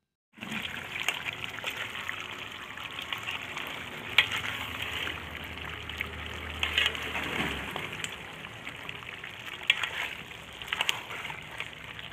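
Country chicken curry bubbles and sizzles in a pan after chili powder goes in, a steady close frying hiss with occasional spoon clinks and light sloshing.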